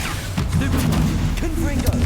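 A Confringo fire spell explodes in the Hogwarts Legacy video game, a booming blast with rumbling game effects that run alongside a talking voice.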